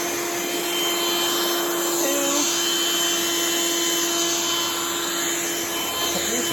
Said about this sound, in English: So these will get sucked right into my vacuum.